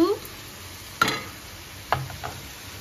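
Potatoes fry in a pan with a soft, continuous sizzle broken by a few sharp clinks and scrapes of stirring, close by and without speech.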